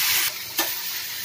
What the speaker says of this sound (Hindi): इसी समय हम ये अदरक लहसुन का पेस्ट भी हम डाल के भून लेते हैं